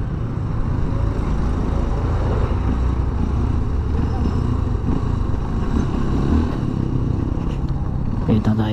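A Honda CRF150L motorcycle engine rumbles steadily at close range, a low continuous drone with exhaust noise, and a voice can be heard over it.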